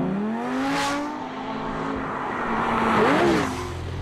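A Lamborghini Gallardo Superleggera engine howls as the car accelerates again after hard braking, its pitch sweeping upward through gear changes, loud and close with no talking.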